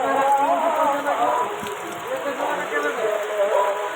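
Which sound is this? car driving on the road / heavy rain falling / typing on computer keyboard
heavy rain falling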